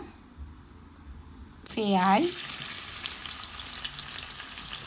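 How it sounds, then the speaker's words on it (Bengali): Cumin seeds dropped into hot oil burst into a loud, close sizzle that starts abruptly and keeps crackling steadily, with a brief voice sound as it begins. "আমি তেল দিলাম গোড়া জিরা"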